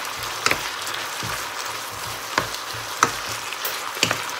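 Green onions stir-frying with ginger and chili in a pan for a grilled-fish topping give a steady, moderate sizzle, broken by a few sharp spatula clicks and scrapes, with no voices.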